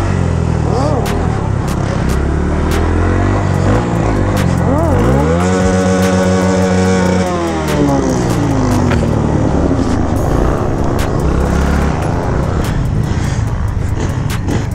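A motorcycle engine roars loudly at close range throughout, its pitch climbing and falling in sweeping revs as the bike lifts into a wheelie amid busy street riding.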